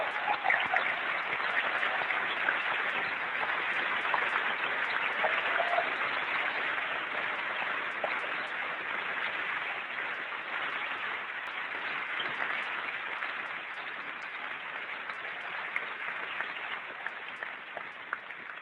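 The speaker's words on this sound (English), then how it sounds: "I'd like to give them a round of applause." A large keynote audience at Macworld New York in July 1999 applauds Apple employees as they stand, a dense, steady roar of clapping that holds at full strength for the whole stretch with no talk over it.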